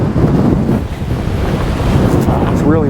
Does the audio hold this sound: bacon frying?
no